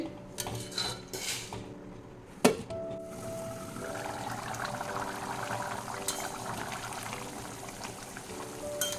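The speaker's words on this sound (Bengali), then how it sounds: "মশলার জলটা দিয়ে দিই এবার এটা চার পাঁচ মিনিট ফুটিয়ে নিলে হয়ে যাবে" Spiced water poured into a pan of potatoes and greens for a poppy-seed dish, with metal clinks of utensils and pots up front, then a steady bubbling, sizzling wash as it heats.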